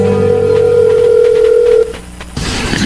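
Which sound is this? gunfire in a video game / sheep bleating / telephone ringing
telephone ringing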